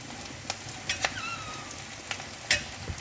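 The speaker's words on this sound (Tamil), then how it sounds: "வெங்காயம்லாம் வதங்கிடுச்சு." Onions sauté in a pan with a soft, steady sizzle under a few scraping stirs and light clinks, close and fairly quiet.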